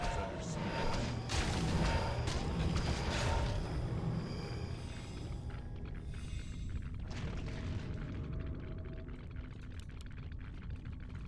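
Flying machine bombs detonating in a Warcraft III match, a dense run of booming explosions and crashes layered over battle noise, loud early then fading into a steady rumble.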